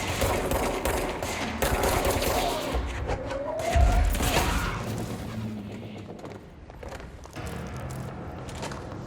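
Bursts of gunfire in the video game Control fill the scene, with rapid rattling shots and a heavy boom near the middle over a constant dense backdrop of game noise.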